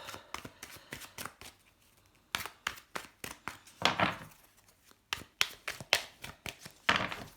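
Tarot cards slapped and flicked out of a deck one after another in crisp, close taps and papery snaps, irregular and fairly loud against near silence, without talking.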